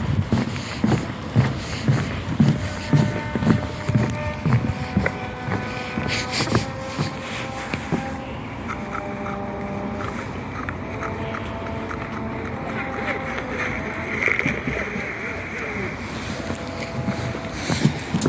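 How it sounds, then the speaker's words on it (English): A distant trumpet plays the carol Silent Night across the water at Cardiff Bay, its sustained melody notes faint and steady against wind noise and lapping water, heard from a pontoon, with no one speaking. "Just over to my left I can hear a trumpet playing."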